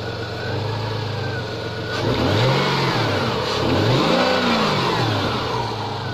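A Rover 45 V6 car engine idles close by to warm its oil. It gives a steady hum, and two gentle revs swell and fall back around the middle.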